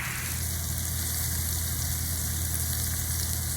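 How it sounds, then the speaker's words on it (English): Morel mushrooms frying in butter with salt, pepper and spices give a steady, close sizzle, a continuous crackling hiss that runs unbroken and fairly loud throughout, with no voices. "I'm frying them up in butter, salt, pepper, spices."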